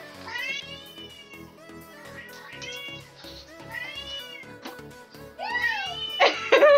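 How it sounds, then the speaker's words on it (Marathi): Recorded cat meows play from a mobile phone indoors, a run of several drawn-out, wavering mews one after another, growing louder and more strained toward the end. "आम्ही नाही का आता मोबाईल मध्ये होती ना कॅटचे वॉइस हे लावलो"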